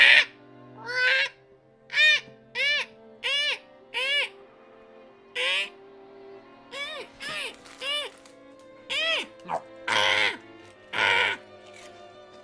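A voice imitates seagull cries: a run of about a dozen short, bright, nasal squawks in uneven bursts with brief gaps, close and loud, during a stream of the visual novel Umineko When They Cry.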